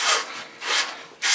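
A reaming tool scrapes around the outside of a 3/4 inch copper pipe, three quick rasping strokes in a row, close and dry with no voices.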